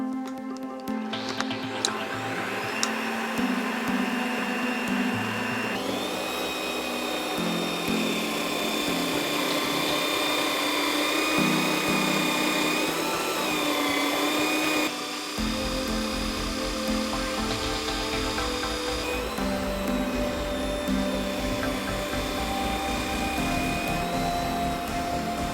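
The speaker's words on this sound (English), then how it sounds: "a perfectly acceptable drum sander." A Bosch PBD-40 drill press runs as a drum sander, a steady loud motor whine with shifting tones and a low hum throughout, its pitch changing partway as the sanding drum works.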